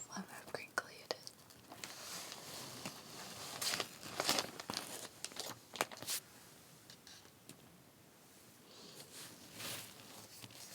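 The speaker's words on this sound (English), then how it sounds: "I just love how crinkly it is." Crinkly paper pages of an obscure Dr Pepper comic book being handled up close, with soft rustles, crackles and small tearing-like crinkles alongside quiet whispering.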